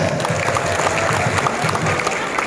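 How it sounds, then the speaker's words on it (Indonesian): A large crowd of farmers at a motivational event in Bogor claps together in a steady, dense patter that fills the room, loud and continuous, with faint voices mixed in. "Tepuk tangan dulu semuanya."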